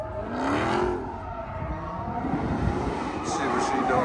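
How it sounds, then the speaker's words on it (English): A car does burnouts at an outdoor car show, its engine revving hard with a roaring, whirring tire spin close by, while people talk over it and wind blows. "Burnouts."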